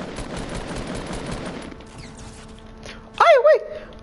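Rapid gunfire in Fortnite rattles densely for the first second and a half, then fades into quieter game ambience, with a couple of short bright sounds near the end.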